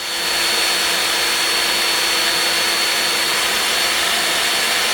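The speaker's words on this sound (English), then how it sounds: "We're going to screw all these screws in." Ground screws driven into the ground for a large garden studio give a loud, continuous machine drone that holds level for the whole stretch without pause, and no one speaks.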